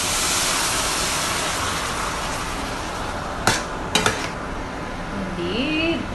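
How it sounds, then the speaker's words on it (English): Mushroom broth is stirred in a pot, with a steady wash of broad liquid noise broken by a few sharp clinks of the utensil against the pot near the middle. "Mushroom broth. Gonna mix it around first."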